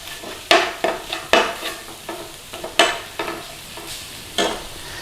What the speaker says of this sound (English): Now all we're going to do is just a little stir around.